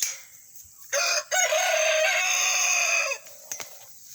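A rooster crows loudly and close by in one long drawn-out call, with quieter clucking from farm chickens before and after.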